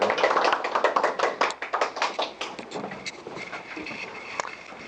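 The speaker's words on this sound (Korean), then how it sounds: "박수 한번 부탁드릴게요" Audience applause welcoming a presenter at a startup idea concert: close, sharp individual claps that start strong and thin out over a few seconds.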